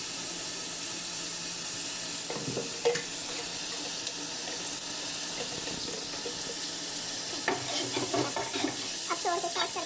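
Restaurant-style chicken korma fries in a pan with a steady close hiss and sizzle, broken by a few clattering stirs near the middle and end, with no one talking.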